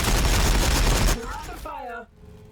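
Gunfire from a T'au army in a Warhammer 40,000 video game: a dense, loud burst of rapid shots for about a second, then a quieter stretch with a voice talking and tonal game sounds.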